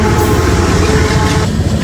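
A passenger train, number 11058 on the Ludhiana to Patiala line, rumbles along in a steady, loud, continuous roar of wheels and carriages with no pauses.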